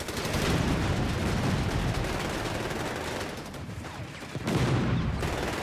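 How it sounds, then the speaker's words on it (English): Dense gunfire and heavy cannon booms from tanks fill a Company of Heroes 3 battle in North Africa, a continuous loud barrage of overlapping shots and blasts with a sharper surge near the end. "Panzer's open fire!"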